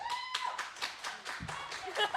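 A small podcast live-show audience answers with a sparse round of claps, fairly faint and irregular, a handful of hands near the microphone with quiet chuckling mixed in.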